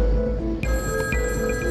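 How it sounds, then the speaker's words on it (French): A telephone rings in a French documentary about a Canadian mafia gang, a short series of shrill, repeated ring pulses set against a steady background hum. "il reçoit un coup de téléphone de Paolo Violi en personne."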